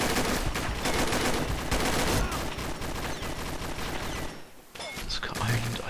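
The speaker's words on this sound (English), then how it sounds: "I think that was, yeah, an MG" Rapid machine gun fire in a first-person shooter video game, dense continuous bursts of loud gunshots with a brief lull near the end before more shots resume.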